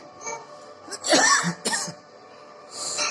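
A person with a sore throat coughs up close, two harsh bursts a moment apart, with softer throat noises around them.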